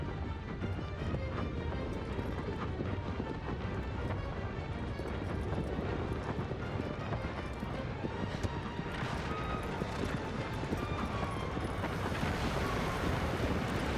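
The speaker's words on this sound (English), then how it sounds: "Let's get back on the horse and let's get riding again." A horse gallops in a Shadow of the Colossus-style adventure game, its hoofbeats blurring into a continuous, loud rumble with wind rushing over the whole stretch and no pause in the rhythm.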